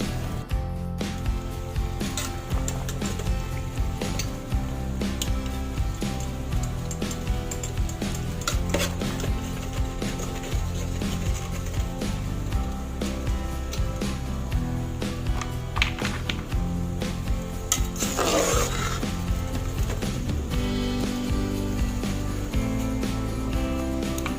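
String beans being cooked and stirred in a pan to dry them, with a steady close sizzle and repeated scraping stirs running throughout, louder in the low end, with no one speaking.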